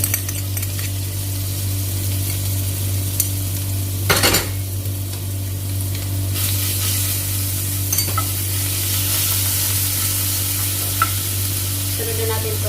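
Garlic frying in hot olive oil in a pan, a steady loud sizzle broken by occasional utensil scrapes and clatters, close up with no voices.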